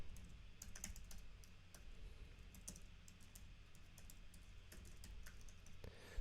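Fingers type on a computer keyboard in quick irregular bursts of light clicks, close and fairly quiet over a low room hum, with no one talking.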